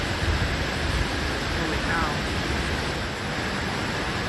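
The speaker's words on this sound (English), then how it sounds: "You can also see, wow, the creek thumping against the bridge there." Floodwater from a creek swollen by Hurricane Helene rushes and thumps against a bridge in Montreat, a loud, steady broadband roar filling the whole clip, with a man briefly exclaiming over it.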